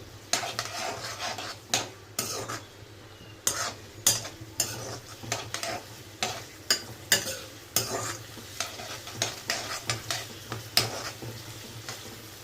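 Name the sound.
stirring chicken fry in a pan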